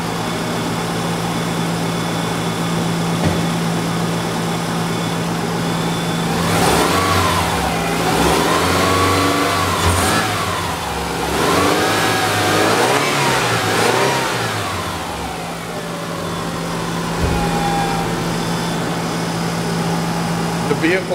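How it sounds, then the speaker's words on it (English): A 2008 Subaru Legacy engine with 133,000 miles idles, then revs up and down in several rising and falling surges before settling back to a steady idle. "we're just going to go rev the car a little bit just so you can hear exactly how it sounds"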